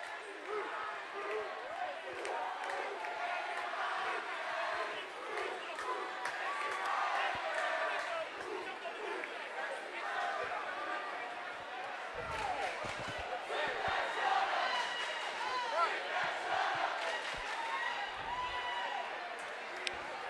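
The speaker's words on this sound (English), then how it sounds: "The crowds go back and forth." A high school basketball crowd at a state sectional playoff game roars and cheers steadily, a dense, reverberant wash of voices with scattered shouts and sneaker squeaks in a gym.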